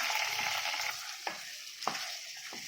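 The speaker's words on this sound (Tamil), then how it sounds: "கொஞ்சம் கருவேப்பிலையை போட்டுக்கிறேன். இதை வதக்கிட்டு சிக்கனை சேர்த்துக்கலாம்." Curry leaves sauté in hot oil for a chicken thokku, giving a steady, moderately quiet frying hiss broken by a few sharp spatula scrapes and pops.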